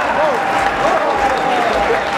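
Rodeo crowd applauding at a national championship barrel race in Chihuahua, a steady wash of clapping throughout, with an announcer's voice over it.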